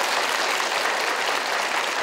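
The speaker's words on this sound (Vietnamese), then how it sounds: "chúng ta cùng dành một tràng vỗ tay để 60 giây bắt đầu" A studio audience on a Vietnamese game show breaks into steady, dense applause that stays loud and even throughout, with no talk over it.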